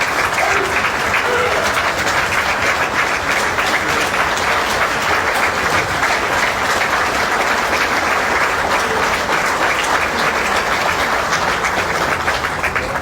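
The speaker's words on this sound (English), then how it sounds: "Give them a round of applause." A crowd at a National Vietnam Veterans Day event gives a long, loud, continuous round of applause for the veterans, dense clapping that holds steady from start to finish.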